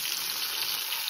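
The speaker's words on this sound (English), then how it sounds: "Ось так я смажу мої пиріжки." Cherry-filled Ukrainian stuffed buns (pyrizhky) frying in a pan give a steady, dense, close sizzle with no pauses and no talking.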